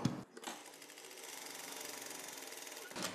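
A sewing machine runs a vertical line of stitches through cloth lining, its needle chattering in a fast, even whir for about two and a half seconds, close and fairly quiet, between brief handling noises.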